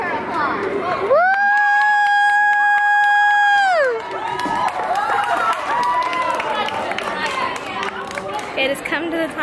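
At Disneyland, a long sustained tone gives way to a crowd cheering and applauding a performer: loud clapping, whoops and children's shouts, with voices chattering throughout.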